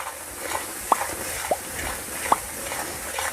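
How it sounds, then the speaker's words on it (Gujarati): Urad flour roasting in ghee over a very low flame for methi pak, stirred in the pan: a soft, steady sizzle close by, broken by a few brief scraping strokes at uneven intervals. "એને એકદમ ધીમા ગેસ ઉપર બે મિનિટ માટે શેકી લઈશું"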